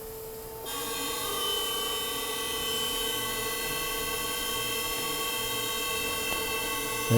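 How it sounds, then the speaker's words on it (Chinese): A steady high-pitched mechanical whine starts abruptly and holds constant, an even electric hum with tonal overtones, fairly quiet and without voices: a one-minute full-throttle fuel injector flow test for a Mercedes-Benz R129 300SL's 2.9-litre M104 24-valve engine. "我们来做1分钟的全油门的流量测试。"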